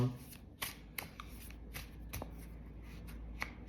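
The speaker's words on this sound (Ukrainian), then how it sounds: "поки помішую карти" Tarot cards being shuffled in repeated crisp riffling bursts, close up, with a voice talking quietly underneath.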